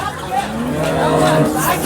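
A large cow at a busy cattle market lets out one long, loud moo that swells and holds, with crowd chatter murmuring underneath.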